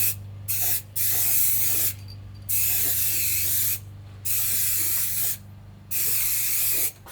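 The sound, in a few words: spray paint being applied, first coat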